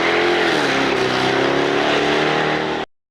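Jaguar F-Type R engine giving a loud, sustained crackling roar up close, steady and dense for about three seconds before cutting off abruptly.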